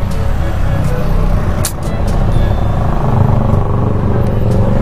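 Dense Indonesian traffic jam of cars and buses, a steady loud rumble of idling and creeping engines with a brief air-brake hiss, close and continuous.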